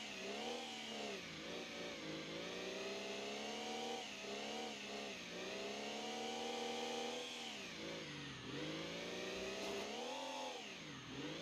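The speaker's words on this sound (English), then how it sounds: "it's just another diesel engine" A diesel engine in BeamNG.drive revs up and down repeatedly, a loud, continuous harmonic drone that rises and dips in pitch through the whole stretch.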